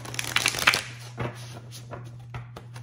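Soft papery riffling and flicking of a large, flexible oracle card deck, a few quick bursts and scattered slaps, close up over a low steady hum.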